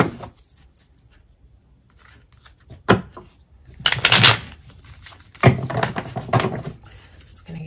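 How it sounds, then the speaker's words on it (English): Tarot cards being shuffled by hand, quiet intermittent riffling and slapping bursts separated by near-silence, close and soft with a few louder flurries. "Give it one more shuffle and then we'll dive in."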